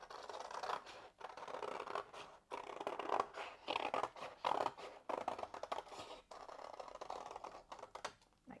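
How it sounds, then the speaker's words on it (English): Scissors cut freehand curves in green paper, with a quiet, close run of crisp snips and paper rustling in uneven bursts and short pauses, and no voice over them. "I'm just gonna freehand cut curves"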